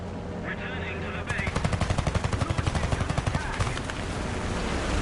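An aircraft's front machine guns fire in War Thunder, a rapid rhythmic burst of about two and a half seconds over steady engine drone, loud and close.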